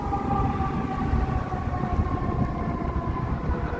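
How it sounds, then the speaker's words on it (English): An emergency vehicle siren wails in the distance along a Chicago street in Streeterville, a steady tone carried over a broad rumble of city traffic. "Sirens, always sirens in the background."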